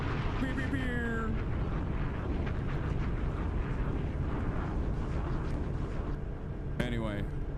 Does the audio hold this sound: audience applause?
no